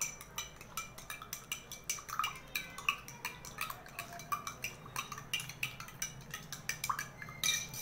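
Repeated clinks of a utensil against a bowl while a homemade soap mixture is stirred, at a steady brisk rhythm, close and fairly quiet, with no talking.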